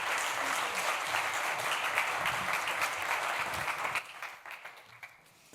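Steady applause from a conference audience at a design event welcoming speaker Katelijn, a dense wash of clapping that holds for about four seconds and then thins and fades away.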